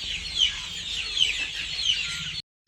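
Many chickens cluck and chatter together on a poultry farm, a dense, continuous flock sound at moderate loudness with no speech, ending abruptly.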